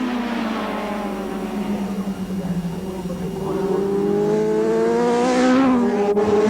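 A 1983 Kawasaki superbike engine howls at race pace, a loud sustained high-revving wail whose pitch slides down and then climbs again as the bike charges along the straight, close and dominant.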